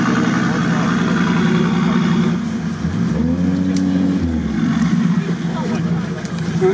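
A loud 606 turbo engine in an off-road vehicle drones and rises and falls in pitch as it revs, with rough broadband noise throughout. A voice can be heard talking over it.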